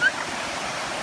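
Stream water running near a waterfall, a soft, continuous rushing wash heard close by, with a brief faint sound at the start.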